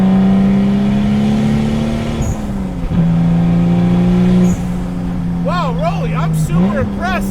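A 400 WHP 2JZ-swapped Datsun 260Z rat rod, its engine droning loud and close with shifts in pitch as it revs and changes gear, and chirpy tyre or whine noises near the end.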